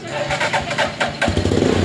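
A Vperman motorcycle with a weak battery and misfiring problem catches on a push start, the engine firing up after rolling noise and settling into a steady close idle that grows louder in the second half.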